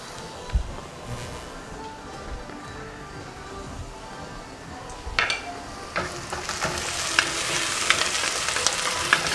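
Chopped onion fries in a pan for a Persian eggplant tahchin. It starts as a soft sizzle, then turns louder and crackly with steady frying noise for the second half, and no one talks over it.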